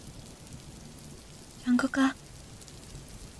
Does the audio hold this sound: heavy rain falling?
yes